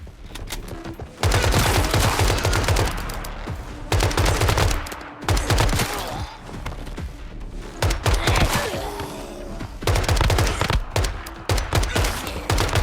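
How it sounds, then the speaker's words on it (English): Rapid bursts of gunfire from steel-bullet ammunition in the Once Human game, loud and close, with repeated automatic volleys separated by short pauses. "I'm sure using steel bullets is complete overkill on these guys, but we have plenty of ammo"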